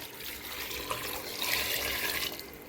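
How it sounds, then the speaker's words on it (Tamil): Water pours steadily into a cooking pot for goat intestine curry, a continuous splashing rush that swells briefly before easing off. "அந்த குடல் வேகிற அளவுக்கு தண்ணி ஊற்றிக்கோங்க"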